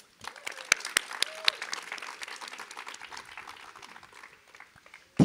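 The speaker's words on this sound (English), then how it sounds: "Please, let's give a round of applause for our non-on-site staff." An audience at a graduation ceremony applauds staff members with dense, steady clapping from many hands that gradually thins and softens, ending with a brief louder sound at the close.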